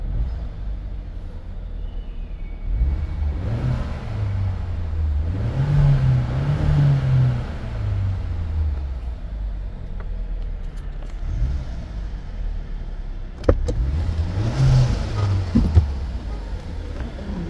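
A Changan CS95 engine idles and runs after a timing belt replacement, a low steady rumble that swells in a couple of revs before settling, with voices speaking over it.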